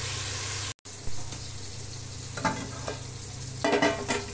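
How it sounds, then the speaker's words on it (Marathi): Onion and tomato stirred and fried in a pan while cooking chicken biryani, with soft sizzling and scraping stirs that swell into louder bursts near the end. "सो मी आता मिक्स करते चांगले"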